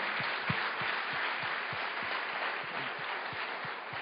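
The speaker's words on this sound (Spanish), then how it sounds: "dale un fuerte aplauso al Señor" Congregation at Iglesia Nueva Vida applauding steadily, the clapping carried over a regular beat of soft low thumps.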